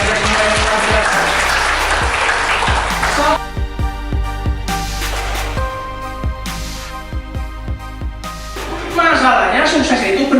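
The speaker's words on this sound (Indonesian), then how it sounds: "Yang setuju dengan tepuk tangan meriah buat RAPP," Loud audience applause in a hall at a pre-retirement training event for PT RAPP in Pangkalan Kerinci, Riau, sustained clapping that thins to scattered claps midway and swells again at the end.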